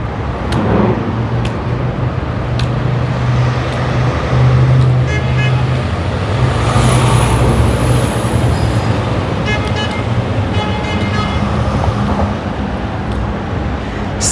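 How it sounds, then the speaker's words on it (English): Crowded city highway traffic in Brooklyn, New York, heard from a walking tour as a constant, loud roadway wash with passing vehicles, a brief toot and some faint high squeals, without clear talk. "And one of the highways is ahead of me there. It's all crowded with traffic."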